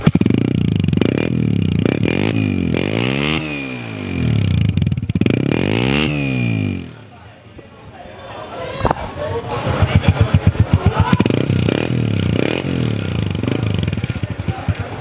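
A 2014 Honda Deluxe 125 motorcycle idles and revs nearby, its engine loud and steady with rising and falling throttle blips, while people talk over it.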